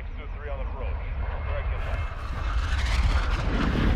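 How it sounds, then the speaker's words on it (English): A precision airstrike in Call of Duty: Modern Warfare II unleashes loud, rumbling explosions with a roaring, sustained blast that swells and thickens toward the end. "these guys just precision airstrike me"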